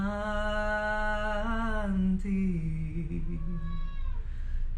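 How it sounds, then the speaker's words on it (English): A domestic cat meows in a long, drawn-out, wavering call that rises and falls, followed by a shorter second meow, close and clear in a quiet room. "My cat chiming in at the end."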